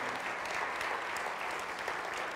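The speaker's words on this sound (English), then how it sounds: "let's give them a round of applause" Steady applause from a church congregation, a dense even roar of many hands clapping together, fairly distant and constant throughout with no talking over it.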